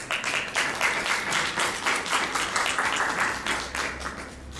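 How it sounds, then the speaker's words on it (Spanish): A strong round of applause from an audience welcoming a guest at a round-table session on reading comprehension, a dense, steady wash of many hands clapping close by that continues throughout and eases slightly at the end. "Lo recibimos con un fuerte aplauso."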